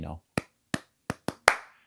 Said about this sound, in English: I did this clap thing